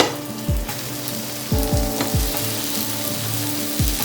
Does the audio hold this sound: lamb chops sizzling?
yes